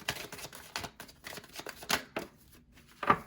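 Tarot cards shuffled by hand at close range, a quick run of soft riffles and taps, with no talking.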